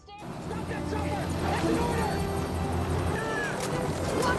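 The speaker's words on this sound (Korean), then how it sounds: "샘은 헬기를 훔쳐 타고 도망치게 되죠." A helicopter flying in a thriller movie scene about a deadly virus outbreak, a steady loud rotor drone with a low throbbing rumble that runs through the whole clip.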